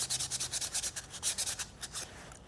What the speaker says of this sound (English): 400 grit sandpaper, and just dunk it in the water and start sanding away